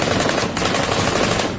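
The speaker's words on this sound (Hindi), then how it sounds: "हथियार से ताबड़तोड़ गोलियां चलाती दिखी।" An assault-style rifle fires a rapid, unbroken burst of shots, loud and harsh at close range, in militant footage where a small girl sits on a tire firing the weapon.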